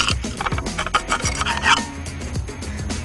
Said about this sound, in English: grab your bolster or your scraper. Just get these little bits of cement off